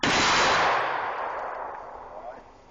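Single shotgun blast fired during a 21-gun salute, one loud close report at the very start followed by a long decaying rumble echoing outdoors, no voices.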